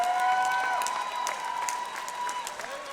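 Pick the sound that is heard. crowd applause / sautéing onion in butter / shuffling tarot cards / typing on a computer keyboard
crowd applause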